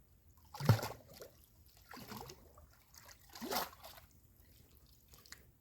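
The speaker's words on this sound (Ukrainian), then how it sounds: "Гарно миємо від слизу її." A freshly caught pike is rinsed of slime in lake water beside a bench, with a few separate splashing, sloshing washes followed by quiet dripping, close and fairly soft.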